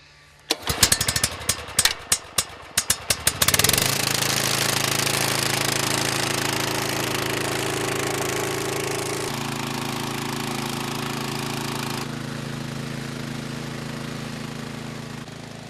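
A grass-cutting machine starts with several sharp, sputtering bursts, then settles into a loud, steady mechanical drone as it shakes and cuts plants in a flowery grassland sward of clovers, daisies and orchids.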